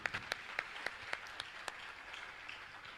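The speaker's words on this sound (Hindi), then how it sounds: "जोरदार ताली बजाकर उनका सम्मान करें" Scattered, faint claps ring out from an audience at a Jain religious discourse session with Praman Sagar Ji Maharaj. A few sharp, isolated hand claps land irregularly and thin out toward the end.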